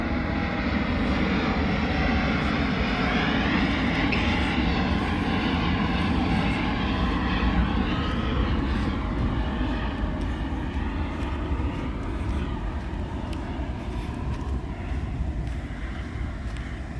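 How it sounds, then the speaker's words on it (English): A propeller or jet airplane passes low and close overhead at Playa Del Rey beach in California, a loud sustained engine roar with shifting whine holding steady for the whole stretch, mixed with wind buffeting on the microphone. "There's another airplane right here."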